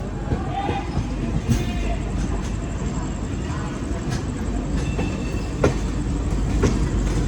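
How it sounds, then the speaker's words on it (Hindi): Superfast special train departing Prayagraj station on the Gaya to New Delhi route, steady rumbling wheels and clickety-clack carrying throughout, with brief metallic squeals and clanks over a busy platform hubbub, close by and loud. "और अभी आप डिपार्चर देख रहे हैं प्रयागराज से।"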